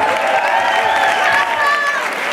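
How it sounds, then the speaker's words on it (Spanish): Concert crowd at a Madrid club applauding and cheering for the band, a loud continuous wash of clapping with shouts and whistles mixed in, close and sustained throughout. "un aplauso para Madrid"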